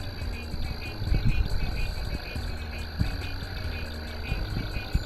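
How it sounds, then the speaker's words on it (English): Frogs croak in a steady chorus at night before a storm, mixed with a high, continuous insect trill and occasional louder close thumps, with no talk over it. "You can hear the frogs."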